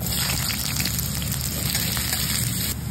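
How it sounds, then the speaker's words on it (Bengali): Cut potatoes frying in oil in a kadai give a steady, dense hiss and crackle that holds evenly from start to end, close and moderately loud with no talk. "আলুটা ভাজা ভাজা হয়ে গেছে, এবার আমি তুলে নেব।"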